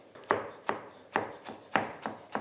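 Knife chopping fresh vegetables and herbs such as dill for a salad, six distinct thuds on a cutting board at an uneven, unhurried rhythm, close and clear with no talking.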